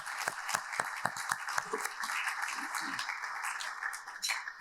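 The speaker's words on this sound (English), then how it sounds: "I want to say thank you very much and give you a round of applause" An audience at an economics talk claps, the sharp individual claps standing out in an uneven rhythm close by, while a voice talks over part of the applause.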